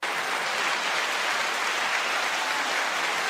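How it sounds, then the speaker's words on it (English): Applause fills the space during a culture talk show, an even wash of dense clapping at moderate volume, continuous and without voices. "9-second applause."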